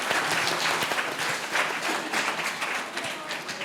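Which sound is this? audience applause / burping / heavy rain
audience applause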